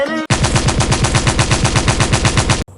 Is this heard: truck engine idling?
no